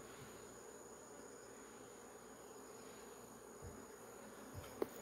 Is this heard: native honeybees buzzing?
yes